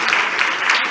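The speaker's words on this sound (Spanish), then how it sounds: "Vamos a darles un aplauso porque ellos hacen un trabajo tan bueno" A summit audience applauds, a brief, steady wash of many hands clapping at once, fairly loud and close.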